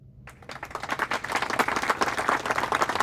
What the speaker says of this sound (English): Pause for claps.